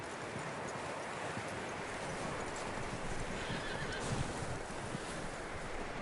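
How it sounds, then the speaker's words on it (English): Horse in Red Dead Redemption 2 whinnying over clip-clopping hooves, dense and continuous, close and loud with no talk. "That looks like a decent horse. You should keep him."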